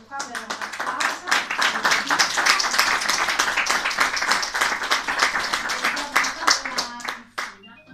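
Audience at a health and beauty conference in Campli claps for a speaker, a thick run of close hand claps that builds quickly, holds steady, then thins out near the end, with a voice speaking over it.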